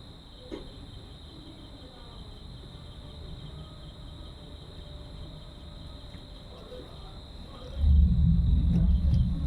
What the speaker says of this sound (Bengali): ভীষণ মেঘ ডাকছে